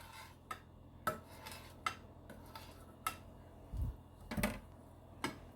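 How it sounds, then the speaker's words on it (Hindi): A knife cuts pineapple jelly into cubes for an eggless pineapple dessert, giving a series of sharp, separate taps and clicks against a board at a steady rhythm, with a few duller thuds in between, close and fairly quiet. "सारे पाइनएप्पल जेली को क्यूब्स में काट लेंगे।"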